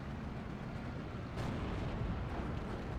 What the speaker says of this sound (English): ISU 152 firing at the same target.